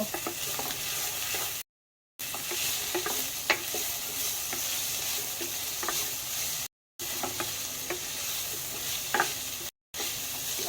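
Potatoes and onions frying in a pan with salt and turmeric, a steady sizzle and scattered scraping taps of stirring, no voices, broken by a few short silent gaps.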